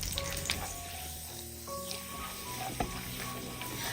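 Cashews roast in hot ghee over a medium flame, sizzling steadily while a spoon stirs them, with occasional light scrapes against the pan and no voices.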